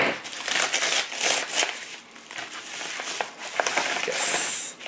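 Scissors cutting open a shipping package holding an order of metal straws at home, a steady run of close, loud crinkling and crunching plastic and cardboard with snips and rustles throughout.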